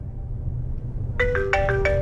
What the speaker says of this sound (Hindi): ये तुम्हारे घर से फोन आ रहा है।